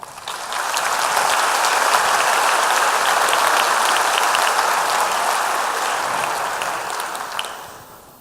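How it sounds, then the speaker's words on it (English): Sustained applause from an audience at a back-to-school faculty meeting for a school district, a dense steady wash of clapping that swells in and tapers off near the end. "Will you recognize that with your applause?"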